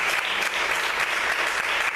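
Church congregation applauding at a Pentecostal-style service, dense steady clapping from many hands filling the room, continuous and fairly loud throughout with no talk over it.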